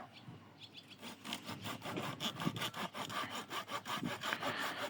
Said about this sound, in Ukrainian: вирішив ще один шматочок відпиляти